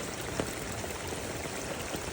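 Rainwater bubbles and gushes out of gopher holes serving as drainage after heavy rain, a constant close wash of flowing water with small splashes and no voices.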